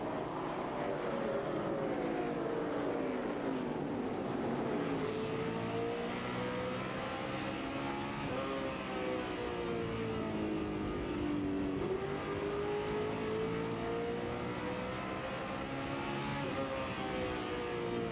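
NASCAR Winston West stock cars roar around the short Tucson Raceway Park oval, engines rising and falling in pitch as they accelerate down the brief straightaways, a dense continuous racing drone heard from the grandstand.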